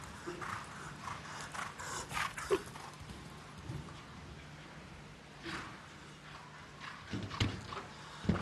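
Hooves of a big, long-striding show jumper thud and clip-clop faintly across the arena at an international jumping final in Gothenburg, Sweden, with soft irregular hoofbeats under a low crowd-and-arena murmur.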